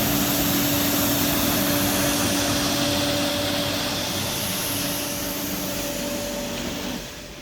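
A Rhima 231 inline dishwasher's conveyor runs during a test cycle with the wash pump off, making a loud, steady mechanical hum with a constant tonal whine that eases down slightly near the end, with no talk.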